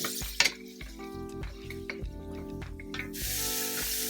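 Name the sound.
garlic and bay leaf sizzling in pan for adobo chicken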